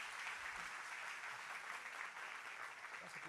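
A church congregation gives a steady wash of applause, many hands clapping together at a distance without pause for a few seconds.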